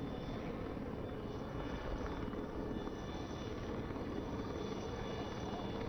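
A Chetak naval helicopter approaching a vessel during a navy exercise display, its steady rotor and engine roar continuous and fairly loud, with no voices.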